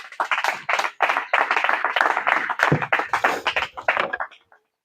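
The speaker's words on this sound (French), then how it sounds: "On acclame la parole du Seigneur." A church congregation breaks into applause, a dense burst of clapping that rises to full strength, holds steadily for several seconds, then tapers off and stops.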